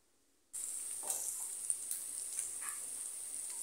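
Food roasting in a pan over a low gas flame, a steady bright sizzle that starts abruptly and holds evenly, with small crackles and pops scattered through it.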